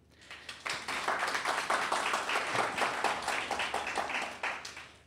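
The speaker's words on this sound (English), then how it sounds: "Now we've got the applause out of our system" Steady applause from an audience at a legislative candidates forum, a sustained patter of many hands clapping for about five seconds at moderate level.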